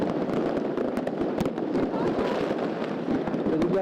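New Year fireworks burst on every side during the first night of 2021 in Yakutsk: a dense, continuous barrage of bangs and crackles, near and far, with voices mixed in.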